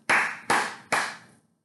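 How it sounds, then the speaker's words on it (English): During a children's storytime rhyme, three crisp, close hand claps ring out at an even pace, each sharp and separate with brief decay and nothing else around them. "Can you clap just like me?"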